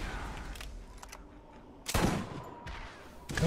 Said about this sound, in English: For some reason, he is shooting at me with rockets.